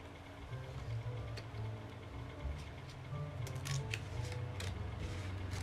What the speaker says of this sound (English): I do need to get my scissors right about now, just to cut this excess off.